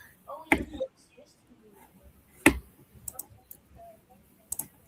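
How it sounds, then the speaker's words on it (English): A few sharp clicks of a computer mouse at irregular intervals, fairly close, with quiet background murmur between them. "You hear that? It's my mouse."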